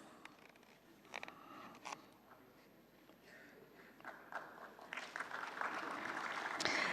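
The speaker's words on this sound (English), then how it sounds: "Ladies and gentlemen, please give a big round of applause." Ceremony audience at an academic forensic science summit valedictory session applauding, a soft patter of clapping that swells and grows denser toward the end, heard from a distance.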